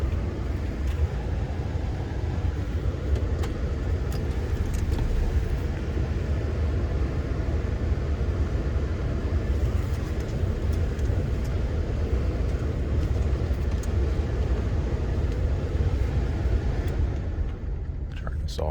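Toyota 4Runner that smells of burnt coolant driving on the road, a steady low engine and road rumble running continuously from inside the cabin, fading slightly at the end.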